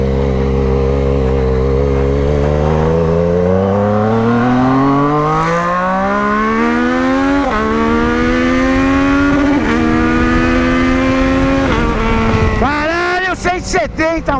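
A Yamaha MT-09 Tracer GT motorcycle with a stainless steel aftermarket exhaust revs up hard through several gears, its whine climbing steadily and loudly, with sharp shifts between each rise.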